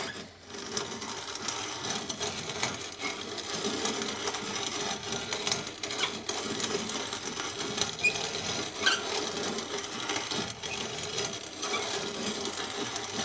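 A hand-cranked grinder mills acorns into flour, producing a steady, close, scratchy rattling churn that runs continuously with small irregular clicks and no speech.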